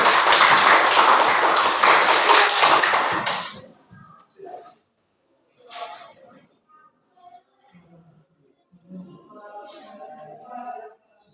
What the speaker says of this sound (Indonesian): Oke, berikan aplaus buat kelompok 1.